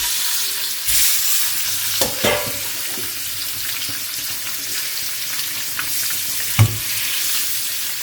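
Scored boiled eggs frying in oil in a pan for a spicy egg masala curry, a steady close sizzle with a few sharp clacks and scrapes as they are turned slowly.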